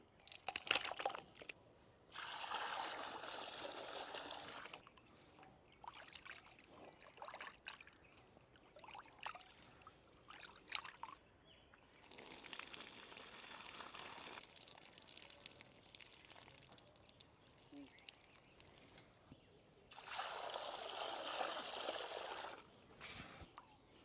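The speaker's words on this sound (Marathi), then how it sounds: "आपण आता भेजे स्वच्छ पाण्याने धुवून घेऊ।" Water splashes and trickles in several separate bursts as brains are rinsed by hand in clean water, with quiet gaps between, close and fairly soft.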